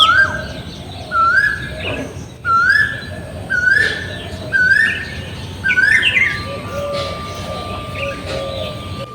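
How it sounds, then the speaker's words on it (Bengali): A koel calls in a garden in spring. About six clear, rising whistled calls repeat at a steady pace, fairly close, over a quiet background. "দেখেছো কি সুন্দর কোকিল ডাকছে"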